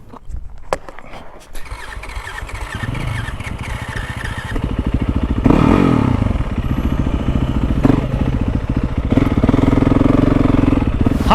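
A 2009 Yamaha WR450F dirt bike ridden along single-track trail, its engine droning steadily and swelling louder midway, with rises and falls as the rider works the throttle.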